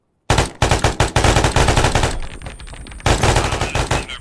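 Automatic gunfire in a tactical shooter game during a raid: loud rapid bursts of shots in a steady rhythm, a brief pause of lower noise in the middle, then another rapid burst, with no talking.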